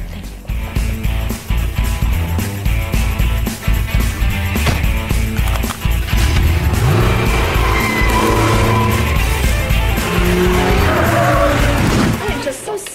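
A Lamborghini pulls away after valet handoff, its tires squealing and engine roaring loudly and steadily up close, with voices mixed in.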